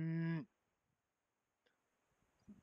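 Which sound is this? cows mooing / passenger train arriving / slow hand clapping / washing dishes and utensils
cows mooing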